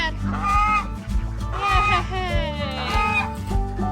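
Ducks gathered into their house at dusk give loud, close, repeated honking quacks in overlapping bursts, with a low rumbling background and a person speaking among them.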